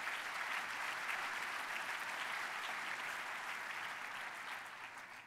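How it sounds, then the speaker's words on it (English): An audience applauds steadily for several seconds at a business chamber luncheon, the clapping dense and even before easing off at the end. "Please give her a big round of applause."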